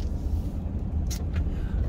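Road traffic on a highway outside Quartzsite with four-wheelers about, heard as a steady low rumble of passing vehicles and a couple of brief higher whooshes, no talking.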